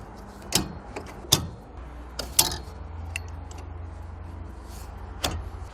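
A 3D MaxSpider Transformer foldable car roof basket is folded down: a few sharp clicks and clacks of the mechanism over a low steady hum, close and fairly quiet.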